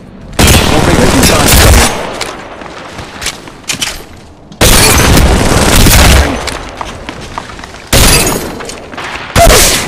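Explosions and gunfire from Apex Legends Mobile, played in third-person as Mirage: loud, crashing bursts of grenade blasts and rapid shots arrive in three heavy waves, with quieter gaps of scattered clatter in between.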